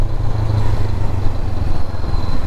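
A Honda CB500X motorcycle engine runs with a steady low throbbing rumble, loud and close, with no voices over it.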